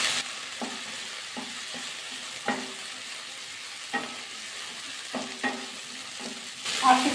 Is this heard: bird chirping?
no